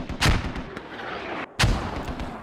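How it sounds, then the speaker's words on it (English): Two heavy mortar blasts boom out in a multiplayer war game match, each a sudden loud impact trailing into a rumbling decay, set against constant battlefield noise. "Looks like there's mortars coming in again on top of FFO."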